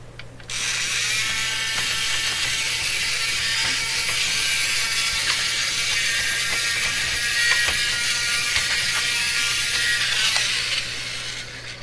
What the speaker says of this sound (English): Let's see if we can vacuum it up here.